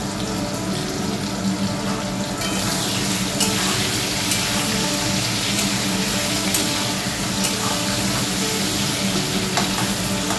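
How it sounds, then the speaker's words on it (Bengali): Potato pieces being fried in a pan for a meat curry give off a continuous dense sizzle with occasional crackling pops, steady and fairly close, with no talking. "মাংসর আলুটাকে ভেজে ফেলি।"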